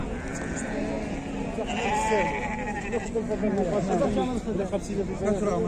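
Sheep bleat again and again at a crowded livestock market in Algeria, loud and close, with overlapping calls under steady chatter and crowd babble.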